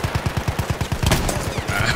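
Rapid automatic gunfire in the first-person shooter Frontlines, a steady burst of roughly a dozen evenly spaced shots followed by denser overlapping fire and battlefield noise, loud and close with no talking.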